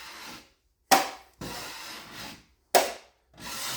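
Taping knife blade scraping drywall tape tight over a wall seam, three long wiping strokes with brief pauses between, close and clear with no talking.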